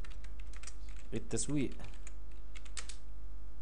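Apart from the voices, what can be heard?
typing on a computer keyboard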